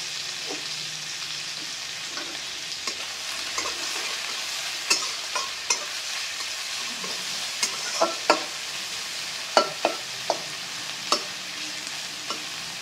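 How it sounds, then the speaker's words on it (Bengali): Onions frying in a pan with salt added, a steady sizzle broken by repeated sharp scraping clicks as a spoon stirs them, close and alone without talk. "পেঁয়াজগুলো একটু ভাজা ভাজা হয়ে গেলে"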